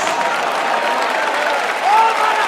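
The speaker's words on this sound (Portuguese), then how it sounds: "Eu vou pedir para melhorar esses aplausos" A church congregation claps together in steady, dense applause that fills the room throughout, close and loud.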